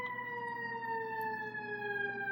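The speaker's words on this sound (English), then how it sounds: "I apologize for these idiotic sirens again" Emergency vehicle sirens hold a steady, drawn-out wail on a rainy high street with slow traffic, continuous and moderately distant, with no speech over them.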